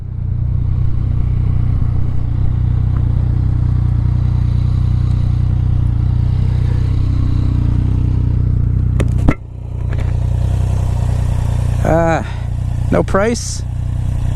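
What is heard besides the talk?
motorcycle revving, Suzuki Gixxer wheelie practice with clutch and throttle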